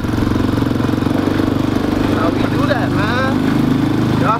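A Raptor 250 engine runs steadily at a close, loud idle-like drone that holds an even pulsing rumble throughout, while a voice and other voices talk over it.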